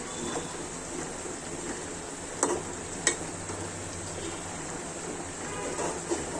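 Pangas fish curry is stirred in a pan over a faint, steady sizzle, with a couple of sharp clinks of the spoon against the pan, quiet and close with no voices.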